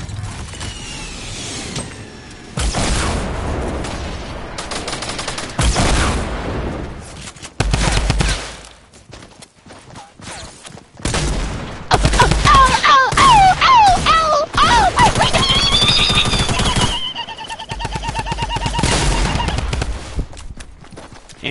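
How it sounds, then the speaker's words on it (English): Rocket blasts and rapid gunfire from an online shooter video game, with loud bursts of shots, crashes and whistling effects that come and go over a long stretch, with short quiet gaps between volleys. "Anthony, shoot a rocket"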